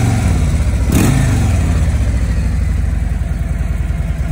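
A 2018 Harley-Davidson Road Glide Special's Milwaukee-Eight V-twin engine, rated at 90 horsepower, rumbles loud and close with a deep, uneven pulse, surges in one quick throttle blip, then settles back to a steady, throbbing idle.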